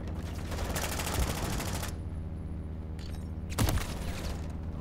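Rapid automatic gunfire in a Call of Duty Modern Warfare 3 match: a sustained burst of close shots, a pause, then another short sharp volley.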